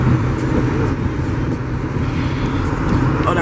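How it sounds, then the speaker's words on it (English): A car idles steadily with its engine warming up during a heavy downpour, producing a constant low rumble mixed with rain noise for the whole stretch, and no speech over it. "I gotta let the car warm up for a little bit before I pull on."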